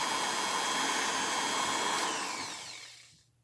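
A small motor on a portable DC power supply whirs at low speed, a steady buzzing hum that lasts a few seconds before spinning down and fading out.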